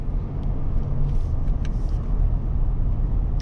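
Low, steady road rumble from inside a moving 2025 GMC Yukon XL AT4 SUV on all-terrain tires, a smooth continuous drone of engine and tires with a few faint ticks.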